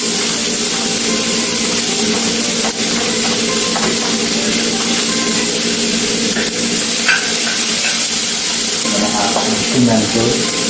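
Garlic, onion and hot pepper frying in a pan, a steady loud sizzle with stirring noises throughout and a voice talking faintly underneath.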